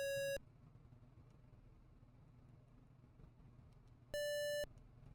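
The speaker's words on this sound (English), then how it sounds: "beeping is kind of annoying" Two short electronic tone beeps from a Llamasoft video game's high score entry, one at the start and another about four seconds later, over a quiet low hum.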